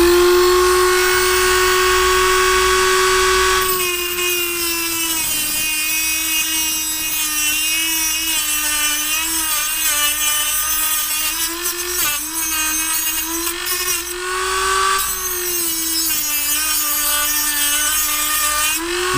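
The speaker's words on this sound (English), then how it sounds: "with a Dremel. And I'm going to cut a slot that we could use to use a flathead screwdriver in here." Dremel rotary tool cutting a slot into a stripped screw head, a loud high-pitched whine that dips and recovers repeatedly as the bit bites into the metal, close and continuous.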